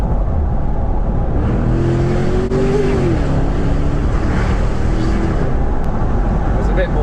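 A 2023 Range Rover L460 Vogue with the 4.4-litre V8 P530 and stainless steel exhaust drops a couple of gears in manual mode, and a steady low engine drone rises and falls as revs climb under the road noise.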